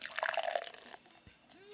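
Dream Hops Double IPA beer pours into a glass with a splashing, bubbly liquid rush for about a second, then trails off into a faint fizz and a few quiet drips.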